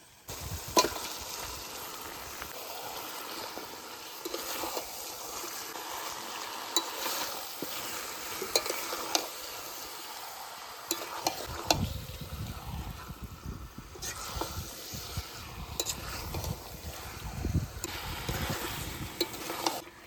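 Chicken pieces frying in oil for a chicken kosha, a continuous close sizzle with stirring scrapes, growing heavier and more bubbly partway through.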